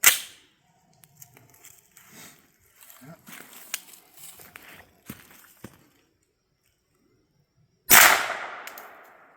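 A suppressed gunshot cracks once near the end of a suppressor test, loud and sharp with a brief decaying tail, after a stretch of quiet handling noises and someone talking.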